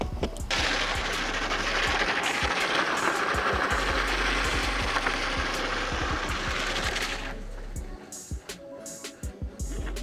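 An RC-controlled Power Wheels ride-on car, powered by an alternator, runs on a test drive. It gives a rough, buzzing motor whine with rapid rattling pulses for several seconds, then stops, leaving scattered clunks and taps.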